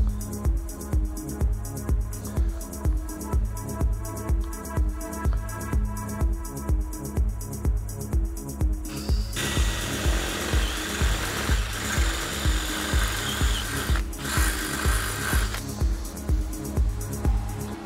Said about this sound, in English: Let's drill a hole in that. All right, so we've got a 8mm drill bit.